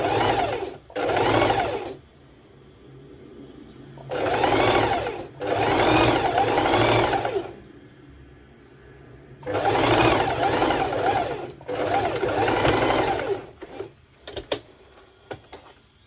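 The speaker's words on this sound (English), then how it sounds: "I place my fabric underneath, and I do a few stitches back and forth." A sewing machine stitches fabric back and forth in four loud, close bursts of a few seconds each, with quieter gaps between, ending in a few short clicks.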